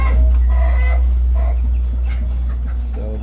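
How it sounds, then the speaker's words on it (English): Chickens at a poultry farm cluck in short repeated calls over a steady low rumble of background noise, fairly close and with no talk. "Oh, chicken."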